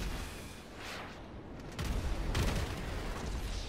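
A video game strafing run sounds as a dense, continuous roar of rapid gunfire and rumbling booms, which swells louder halfway through and carries no speech.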